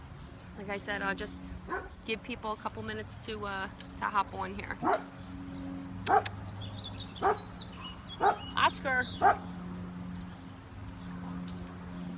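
A pet dog named Oscar barks and yips in short, sharp bursts, scattered and fairly close, while someone talks over them.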